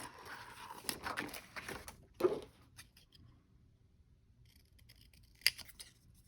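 Scissors cut through paper in a short burst of close snips and rustles, then a louder crunch and a long quiet stretch broken by light handling sounds and a single sharp click, with no speech.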